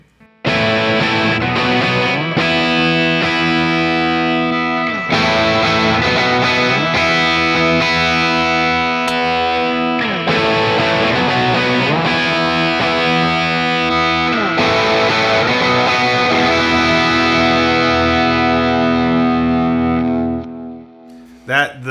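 Heavily overdriven electric guitar through King of Tone and 808 overdrive pedals plays sustained distorted chords and riffs, loud and continuous for about twenty seconds, ending abruptly.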